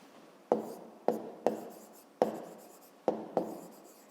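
A pen writes on paper while a fifth-grade math exercise is worked out: six short, scratchy strokes in an irregular rhythm, close and fairly quiet, with no voices.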